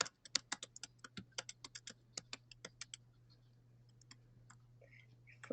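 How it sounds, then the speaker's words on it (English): Typing on a computer keyboard: a rapid run of crisp, close key clicks for about three seconds, then a few scattered taps over a steady low hum. "I'm going to type it into the chat."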